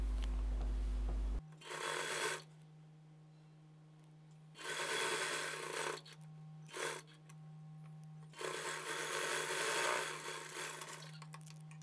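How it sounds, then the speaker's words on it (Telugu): A sewing machine stitches along the front fold of a blouse in several close, steady bursts of rapid whirring, separated by quiet pauses filled with a low constant hum. "స్టిచ్చింగ్ చేసుకుని ఎక్కడి నుంచి అయితే స్టార్ట్ చేశారో మళ్ళీ అటువైపుకి వచ్చేసే వరకు స్టిచ్చింగ్ చేసేసుకోవాలి"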